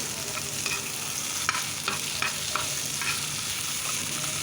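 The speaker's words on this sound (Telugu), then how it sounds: "ఒకే పచ్చిమిర్చి కొంచెం దోరగా వేగాక అందులో కట్ చేసుకున్న టమాటా ముక్కలు వేసి వేయించాలి" Tomato pieces and green chilli frying in a pan, a continuous close sizzle with light scraping strokes of stirring every so often, no talking.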